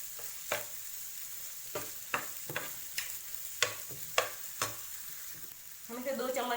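A spatula scrapes and taps against a hot tawa while mixing tawa pulao, with a steady sizzle underneath and about ten sharp metallic clinks at irregular intervals, close and fairly quiet, ending in a louder rustle of stirred rice.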